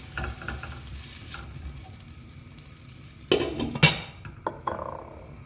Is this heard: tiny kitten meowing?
no